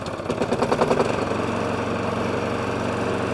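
Small lawnmower engine idling with a steady, low, rhythmic chug after a brief louder rev at the start, heard up close with no talking.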